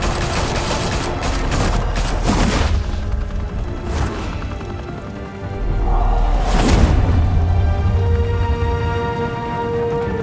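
Bursts of gunfire in a shootout from the Batman Telltale video game, loud volleys of shots with booming impacts and lingering echo, separated by short pauses.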